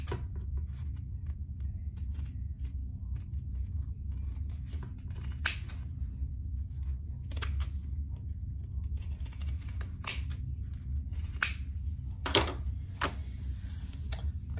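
Pinking shears snip fabric around curves, sharp crisp cuts landing in irregular bursts over a low steady background hum, close and fairly quiet.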